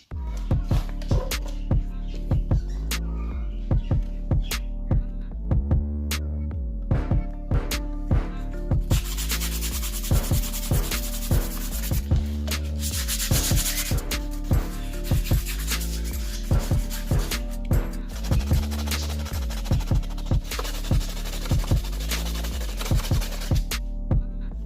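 Painted motorcycle bodywork being hand-sanded with 240 grit sandpaper: steady rhythmic scratchy back-and-forth strokes, close and continuous, with regular small knocks throughout.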